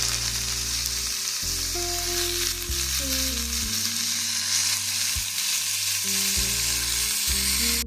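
Ground beef and onion sizzle steadily in a pan for a slow cooker stew, a continuous frying hiss heard alongside louder background music.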